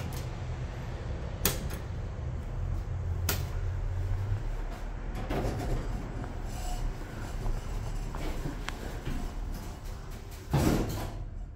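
Doors of a 1999 Schindler elevator slide open and closed, with a few sharp clunks and rumbling motor movement over a steady low hum, no talk.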